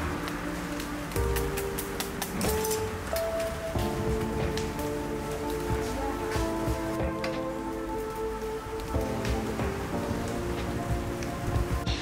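Steady rain falling outside a shop that toasts bread over a wood fire, a dense continuous patter of drops on surfaces with scattered sharper drips, fairly close and with no talk.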